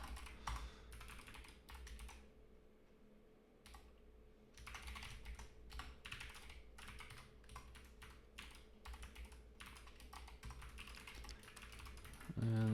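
Close computer keyboard typing in bursts of rapid key clicks separated by short pauses, with a brief quiet stretch partway through and a low background hum.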